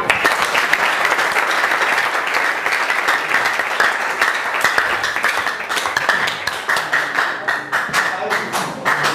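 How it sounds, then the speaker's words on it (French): Audience at a gathering in Mbandaka claps steadily and loudly for about nine seconds, a dense wash of hands with a few louder individual claps standing out toward the end. "on peut applaudir les mains"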